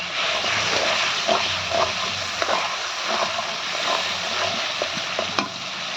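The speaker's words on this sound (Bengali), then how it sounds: "এদিকে মশলাটা কষাইতেছি মাছ রান্না করার জন্য" Spice paste frying in a pan for a fish dish, with a steady loud sizzle throughout and intermittent stirring scrapes and clacks, no talking.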